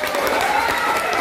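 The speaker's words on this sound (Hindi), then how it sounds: "अगर ऐसा है तो ताली बजा दे एक बार।" Audience applause at a political speech gathering, a dense continuous wash of many hands clapping together, steady and fairly loud through the whole short moment.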